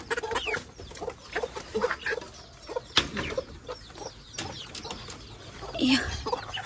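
Chickens cluck repeatedly in a farmyard pen, with short, uneven calls near and far and a few louder squawks, over faint background movement.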